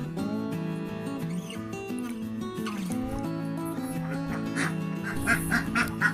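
Laying ducks on a duck farm quack in a dense, overlapping chorus at midday. The calls are loud and close, with bursts of louder quacking toward the end and a voice talking underneath.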